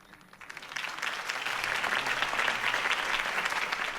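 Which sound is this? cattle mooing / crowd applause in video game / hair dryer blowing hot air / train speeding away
crowd applause in video game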